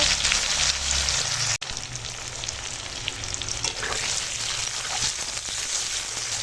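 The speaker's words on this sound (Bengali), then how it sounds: "পেঁয়াজটা ভালো করে ভেজে নেব" Onions fry in the oil left over from frying fish, with a bay leaf added. A steady, loud, dense sizzle holds throughout, broken by one brief dropout near the start.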